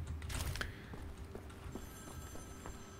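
An old-style telephone bell ringing inside a prison in the Wolfenstein video game, a faint repeated ring behind a louder burst of game noise at the start.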